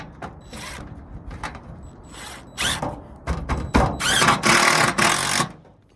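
A power drill drives screws into a metal roof vent on a metal roof. Short whirring bursts start the sequence, then longer, louder runs of the driver, close by.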